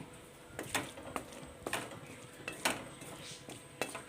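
A metal lid goes onto a pot of breadfruit curry cooking in coconut milk. Several faint, scattered metallic clinks and taps sound close by, separated by brief quiet gaps, with no talking.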